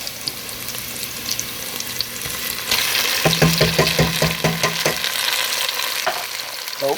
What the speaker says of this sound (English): Now I'm going to add my tomatoes